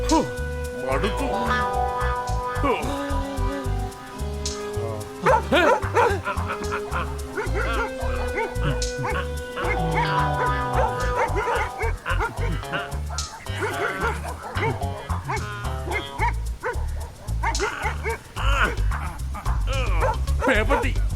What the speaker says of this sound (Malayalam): ഇതിന്റെ അകത്ത് പേപ്പട്ടിയുണ്ട്